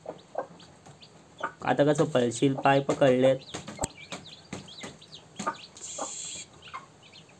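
Small chicken chicks peep and cluck close by, their shrill calls scattered through the clip while a person speaks over them, with some rustling handling noise and a brief faint beep.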